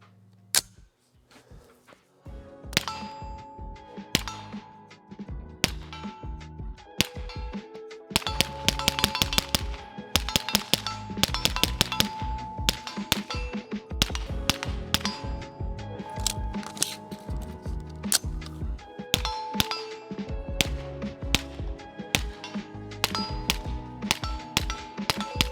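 Sig P320 pistol fitted in a Flux Defense Raider X brace, fired at a can outdoors, with many sharp close shots in uneven rapid strings, some metallic pings among them, and a few gaps between volleys.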